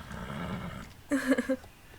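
A horse in the Star Stable video game, an Andalusian, rears and lets out a short, loud whinny with a few rising, choppy pulses after a stretch of softer background sound.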